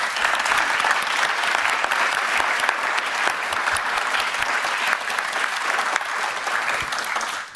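An audience at an award ceremony during a global solutions summit applauds, a dense, sustained round of clapping that stays loud and even throughout before cutting off at the end.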